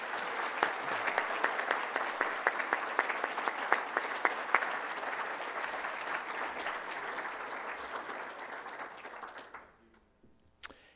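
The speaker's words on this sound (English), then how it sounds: "Let's have another round of applause for them, if you could." Audience at an evening awards tribute bursts into sustained applause, dense steady clapping from a full room that holds for several seconds and then fades out.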